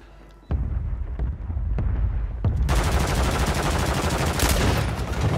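Rapid pistol gunshots in a first-person shooter video game, a dense burst of loud cracks that blurs into sustained gunfire after a few isolated shots, filling the scene with no talk.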